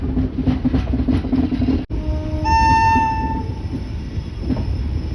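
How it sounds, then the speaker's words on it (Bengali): Kanchankanya Express hauled by a WAP-7 electric locomotive from the Sealdah car shed, departing Naxalbari station on its Sealdah–Siliguri run: steady rolling rumble of coaches with a loud, sustained horn blast midway, nearby and without voices. "নকশালবাড়ি স্টেশন থেকে আমাদের ট্রেনটা কত সুন্দর ডিপার্চার নিচ্ছে"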